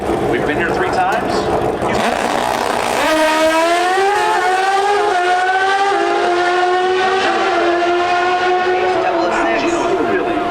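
NHRA Pro Stock motorcycles at drag races in Chicago scream through the gears, a loud rising engine wail with stepped upshifts sweeping past, while an announcer talks over the roar.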